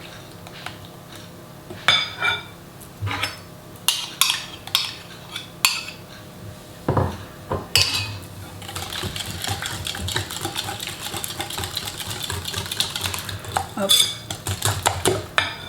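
A bowl of eggs and sugar whisked with melted butter for chestnut cream muffins, the utensil clinking sharply against the bowl in irregular bursts, then settling into continuous brisk scraping and tapping; one short word is spoken.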